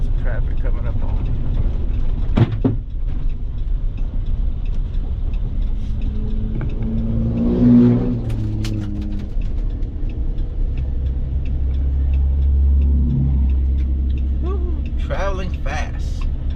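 Off-road side-by-side vehicles race past fast at Mudbuddys offroad park, a loud rumbling surge that swells and fades as they go by, heard alongside a nearby idling engine and a few clunks.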